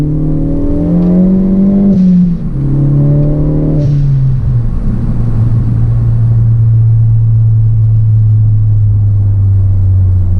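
A 2013 Ford Focus ST revs loudly up close in two rising bursts, then settles into a steady, droning engine note without talk.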